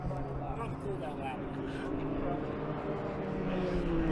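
Mixed formula and Indy-type race cars at The Mitty 2019 vintage race meeting make a steady, loud engine drone with a rising whine near the end, heard beneath someone talking.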